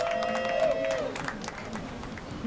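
Crowd at a surf contest in El Salvador applauding and cheering faintly in the distance while a commentator talks over it.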